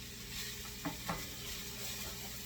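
Paella rice stirred around in a sizzling pan to coat it, a faint steady frying hiss with a couple of soft scraping strokes of the utensil.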